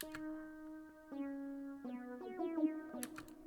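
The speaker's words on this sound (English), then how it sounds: "the like spacey type sound effect that sounds like this" A spacey, synthesized tone from an FL Studio beat glides and steps through sustained notes, each new note entering with a soft attack and rising in layers, faint and alone.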